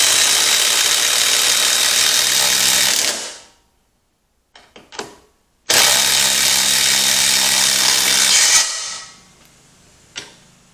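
Cordless 18-volt and 20-volt power tools run in a side-by-side test: a loud, close, high whine for about three seconds, a few brief bursts, then another steady run that cuts off, with no talk.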